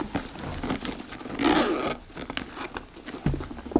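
Zipper on a purse pocket opened in a quiet room, a close, soft rasping pull with faint handling rustles and taps around it.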